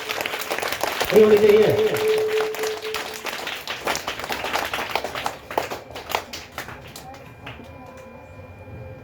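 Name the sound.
applause from audience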